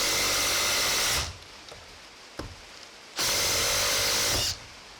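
A Makita LXT 4-speed impact driver on its highest setting, number 4, hammers loudly in two dense bursts of about two seconds each, separated by a brief lull with a faint tap.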